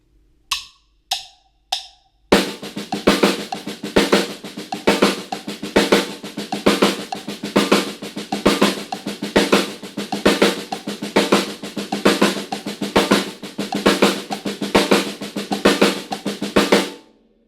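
A drum kit plays a fast six-stroke sticking phrased as sixteenth notes, beginning with three sparse count-in hits before a dense, evenly pulsing run of strokes with recurring accents continues loudly to the end.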